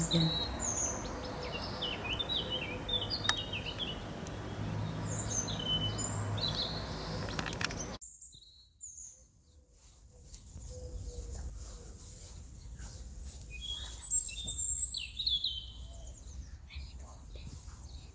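Small birds chirp in the morning in scattered, high twittering calls. The sound drops quiet for a moment midway before the chirping returns over soft background noise.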